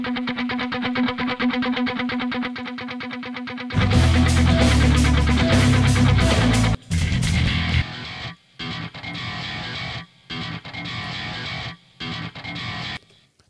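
Distorted electric guitar run through a stack amp from multi-tracks, with a glassy tone: a steady chugging riff that opens into loud, thick chords and then choppy, stop-start bursts.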